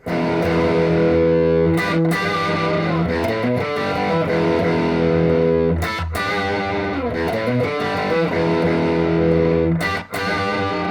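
Loud, heavily overdriven electric guitar plays a repeating riff with sustained chords and quick muted breaks, continuous and unaccompanied for several seconds.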